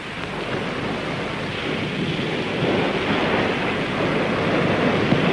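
Sea waves roll in and out in a steady, continuous wash of surf, broad and moderately loud, swelling slightly toward the end, with no voices.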